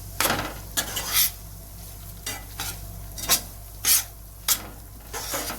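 Fine semolina roasts in hot oil for sheera while a spoon stirs and scrapes the pan in repeated sharp bursts over a low steady sizzle, close up with no talk.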